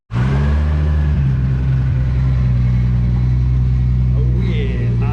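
Turbocharged K-swapped Honda Civic engine, about 400 hp, idling and revving with a deep steady rumble, loud and close throughout, with people talking over it.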